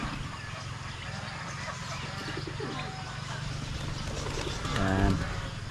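Soft pigeon coos drift over steady outdoor background noise, with a louder, throaty cooing burst near the end.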